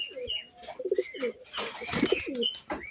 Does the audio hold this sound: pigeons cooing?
yes